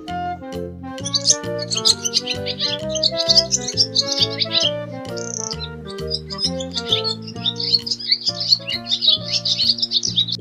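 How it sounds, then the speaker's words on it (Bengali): Dove calls sound repeatedly over a steady backing melody, fairly close and lively throughout. "ঘুঘু পাখি ডাকছে গাছে।"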